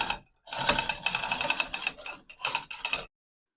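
Mechanism on an IH TD340 dozer being cranked during a steering repair, bursts of dense metallic clicking and grinding close by, separated by brief silent gaps and ending abruptly.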